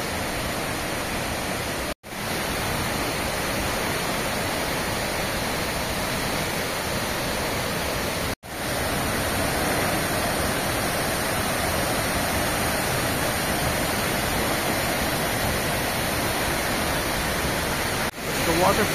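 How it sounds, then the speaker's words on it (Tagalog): A powerful waterfall at Lake Sebu in South Cotabato roars as a dense, continuous wash of falling water, loud and close, with high flow. "waterfalls."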